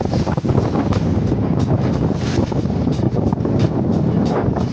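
A small fishing boat's motor buzzes on open water, mostly buried under loud, continuous wind buffeting the microphone, with no voices.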